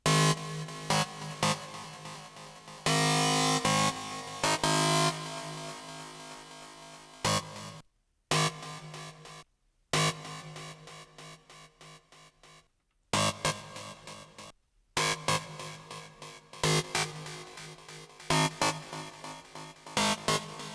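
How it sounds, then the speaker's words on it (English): Harsh, buzzy FM synthesizer notes hit in stuttering, chopped bursts with abrupt silences between them, loud and gritty over a pulsing electronic beat. "like a very aggressive FM synth would be cool"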